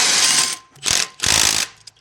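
A half-inch tight-reach ratchet wrench tightens a disc brake caliper bolt on a boat trailer, three close bursts of rapid ratcheting clicks separated by short pauses.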